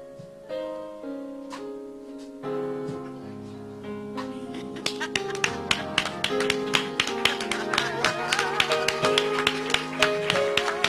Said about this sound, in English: Y'all can't clap no better than that.